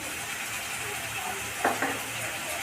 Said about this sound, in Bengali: এবার আমি মশলাটাকে ভালোভাবে কষে নেব